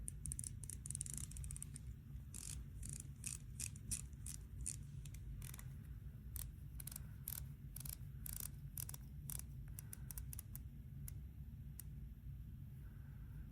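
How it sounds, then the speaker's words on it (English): Citizen Promaster NB6025-59H titanium wristwatch ticking up close, a quiet series of sharp, regular clicks over a low background hum. "let's hear the ticker"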